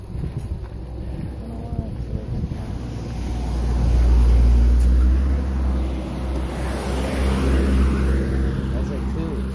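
Honda Accord driving past along a road by Forest Park, a low rumble that swells and fades over a few seconds beneath heavy wind buffeting on the microphone, with people talking nearby.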